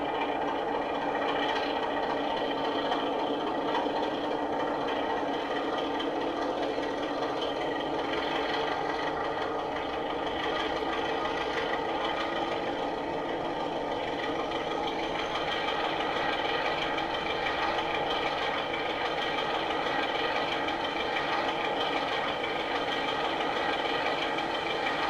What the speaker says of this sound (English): engine speeds up and it starts to move